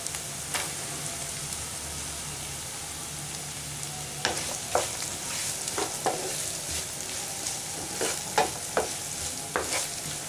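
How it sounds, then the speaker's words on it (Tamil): Onions and green chillies frying in a pan for Tamil methi rice, a steady soft sizzle running throughout, with scattered clinks and scrapes of stirring in the later half, close and fairly quiet, no talk. "இப்போ வெங்காயம், பச்சை மிளகாய் போட்டுக்கலாம்."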